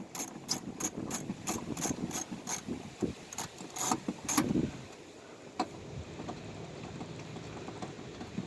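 A ratchet wrench removes 10 mm bolts from a plate on a 2012 Kia Sedona, giving a fast series of sharp clicking bursts for several seconds, then a quieter stretch of hum.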